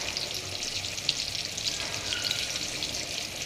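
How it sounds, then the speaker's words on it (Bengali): Begun bhaji, eggplant slices frying in a pan in a home kitchen, gives a steady, even hiss of sizzling oil that holds at one level throughout, close by with no voices. "বেগুন ভাজি"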